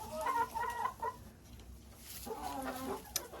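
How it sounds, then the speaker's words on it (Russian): A Marans hen clucks in short bursts inside a muddy henhouse, close and fairly loud, with rustling and a brief pause between phrases. "Ох, и пронырливая эта курица."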